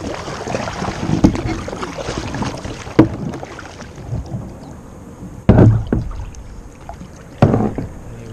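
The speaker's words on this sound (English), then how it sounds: "I'll nose it down with my kayak. I'll just push it to the shore." A kayak on a Tasmanian river nudges a floating object toward shore, with sloshing water, paddle splashes and hull knocks, a few sharp thumps standing out against wind buffeting the microphone.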